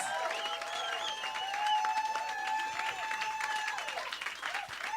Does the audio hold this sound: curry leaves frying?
no